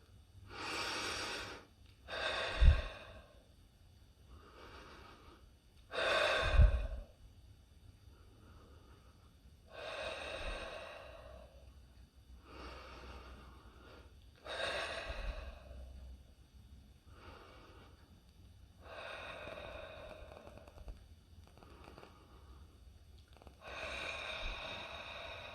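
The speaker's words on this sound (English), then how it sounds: "Take 6 deep breaths again." A person takes six slow, deep breaths during a calming anxiety exercise, each inhale and exhale sounding close and audible, separated by quiet pauses, with no talking.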